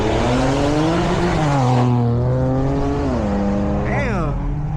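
Nissan VQ engine car at a JDM car meet, loud exhaust rising and falling through revs with a raspy trumpet-like tone, close and continuous while people talk over it.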